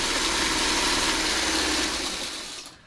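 A sewing machine runs steadily, stitching a seam in quilting fabric for a spinning chevron pattern; the continuous motor hum and needle rattle hold loud and even for about two and a half seconds, then fade.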